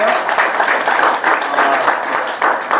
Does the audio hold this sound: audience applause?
yes